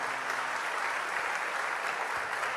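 A church congregation applauding at a worship service, dense sustained clapping from many hands filling the whole stretch at an even level, with no talk over it.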